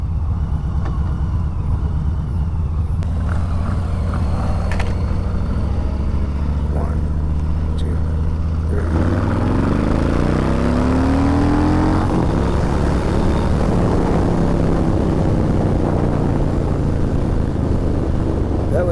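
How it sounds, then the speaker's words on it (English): A 2021 Harley-Davidson Street Bob 114 and a Triumph Bobber Black do a second-gear roll-on: a loud, continuous engine drone builds and rises steeply in pitch partway through, with heavy wind noise around it. "That was a 2nd gear roll-on, and as I suspected, because this bike has so much more torque down low, it clearly pulls right away from the Triumph."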